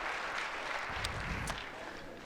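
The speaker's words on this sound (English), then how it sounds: "round of applause." Audience applause at a senior known-distance professional archery tournament, a steady broadband clatter of clapping that holds for about two seconds at moderate level with no voices over it.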